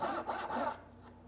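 Hand saw rasping through wood while cutting parts for a small cabinet, a few close back-and-forth strokes that trail off into quieter scraping.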